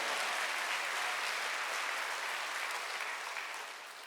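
A church congregation applauding during a Korean sermon, a dense, steady wash of many hands clapping that fills the space and tapers slightly toward the end.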